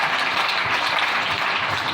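A church congregation breaks into sustained, dense applause acclaiming the Lord, a steady wash of clapping filling the room without pause.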